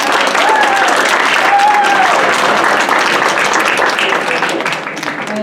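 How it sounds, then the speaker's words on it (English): Debate team banquet audience at a high school gives parents a round of applause: dense, sustained clapping from a roomful of people, loud and continuous, easing slightly at the end. "Team, give your parents a round of applause."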